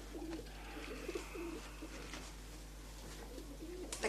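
Pigeons kept in a stairwell coo in repeated low throaty phrases, close and steady over a constant low hum, with faint chirps and no voices.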